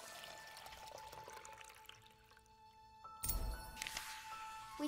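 Water poured in the video game Lost Words, a steady pouring burst that starts abruptly partway through and runs loud to the end over soft game music.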